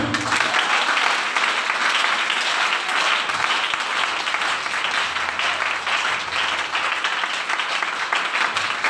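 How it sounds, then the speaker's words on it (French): Church congregation applauding, a loud, sustained, dense roar of many hands clapping that carries on evenly for around nine seconds, with no one speaking over it. "Donnez une acclamation."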